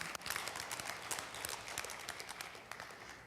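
A church congregation applauding during a sermon, a broad wash of many hands clapping at a steady quiet level, somewhat distant, with no voices over it.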